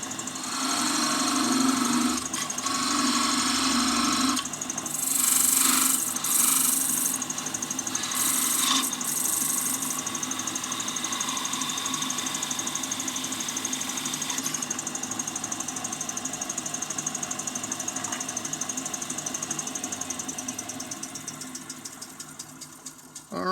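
A lathe parts off a turned Christmas angel ornament: a steady motor hum runs throughout, with several short, bright bursts of cutting noise partway through, then it gradually settles.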